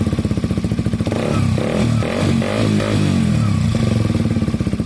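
A KTM 125 motorcycle fitted with an aftermarket Black Widow exhaust, which has a slight leak at the clamp. It idles with a rapid pulsing beat, then revs hard in a burst and settles back to idle.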